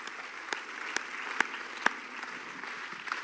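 A church congregation claps during worship, a steady wash of hand applause with a few louder sharp claps standing out, continuing evenly throughout without talk.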